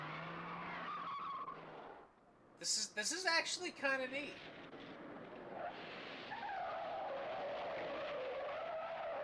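A car brakes hard with anti-lock brakes, producing a sharp skidding screech and pulsing tire noise, with people talking briefly over it.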